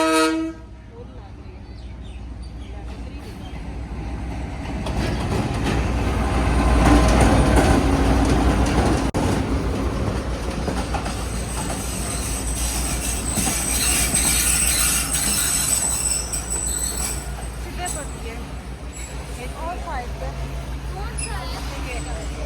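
A train pulls into a station in Pakistan, a loud rumble of wagons and wheels with metallic squeals, a horn toot, and crowd noise and voices talking over it throughout.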